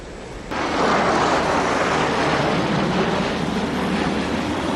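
A fighter jet in a film scene gives a loud, steady roaring rush of engine noise that swells in abruptly and holds without a break.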